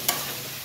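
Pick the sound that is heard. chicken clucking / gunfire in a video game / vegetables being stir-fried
vegetables being stir-fried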